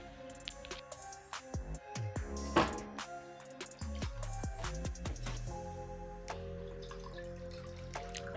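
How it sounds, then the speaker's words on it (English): Gin poured into a glass for a pomegranate gin and tonic, heard as faint liquid trickling and dripping in short bursts, quiet and close, with no voices. "pour 60 mils of that into your glass"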